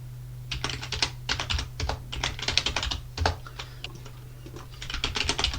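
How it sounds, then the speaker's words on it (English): Typing a password on a computer keyboard, quick irregular bursts of close, crisp key clicks separated by brief pauses, with no talk. "What you'll need to do now, though, is type password and then Sarah to set a password."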